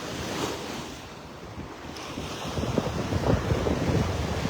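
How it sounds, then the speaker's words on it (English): Surf rolls onto the mile-long beach at Delnor-Wiggins park in North Naples, Florida: a steady wash of waves with gusty wind buffeting the microphone, swelling louder toward the end. "A beautiful mile-long stretch of beach at the park."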